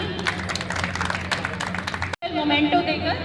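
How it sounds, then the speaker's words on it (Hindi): Clapping from an audience at a health fair held at a civic hospital, a dense burst of applause that breaks off abruptly and gives way to a voice speaking over a murmuring crowd. "जोरदार तालियां"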